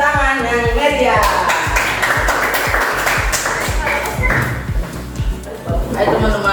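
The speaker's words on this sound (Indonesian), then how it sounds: "Beri tepuk tangan yang meriah." A school literature event audience gives a lively round of applause as a participant comes forward, clapping dense and sustained over a steady background with music-like tones, loud and continuous throughout.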